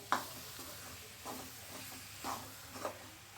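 Chopped eggplant for Khandeshi bharit sautéing in a pan, a low steady sizzle broken by several faint scraping stirs, close and quiet with no talking.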